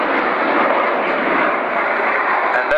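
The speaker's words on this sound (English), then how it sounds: "As you can see, the aircraft is totally combat ready." A French Air Force Rafale fighter jet roars overhead at an air display, a loud continuous broadband rushing engine noise holding steady without breaks for the whole stretch.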